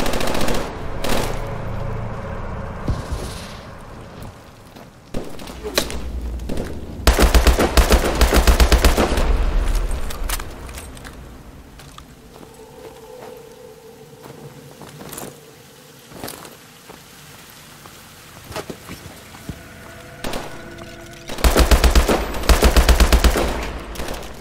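Gunfire in the video game Call of Duty: Advanced Warfare: loud bursts of automatic fire in two main volleys, with scattered single shots and rumbling game ambience between them.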